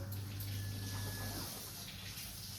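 A tap runs steadily into a sink while someone gets water to brush their teeth, a continuous close rushing stream with a low hum, with no talking.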